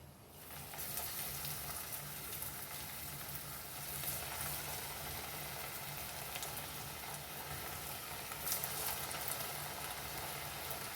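Vadas, lentil fritters, sizzle and crackle steadily as they fry in hot oil, a faint, continuous frying hiss with occasional pops and no speech.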